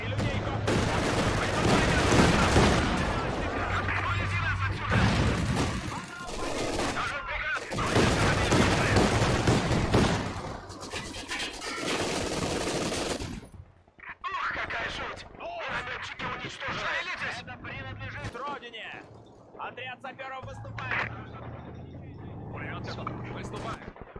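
Company of Heroes 2 four-versus-four match with sustained machine-gun bursts and gunfire crackling densely through the first half, thinning into scattered shots and rumbles later, with someone talking agitatedly over the battle.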